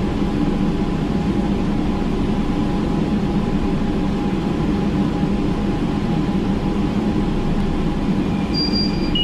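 A Kolkata Metro train rumbles at Taratala station with a steady low, loud drone of wheels and motors, a faint tonal whine appearing briefly near the end.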